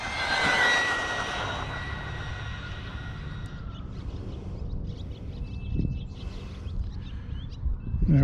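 Traxxas Bandit VXL RC car motor at full throttle during a speed run, a loud high-pitched electric whine that peaks early, then fades and drops away as the car speeds off, leaving faint outdoor background noise and birds chirping.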